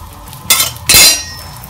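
Ghee spread across a hot tawa on a medium flame while coconut polis cook, heard as two sharp metallic scrapes and clinks of a utensil against the pan, the second louder and longer, with quiet kitchen background between.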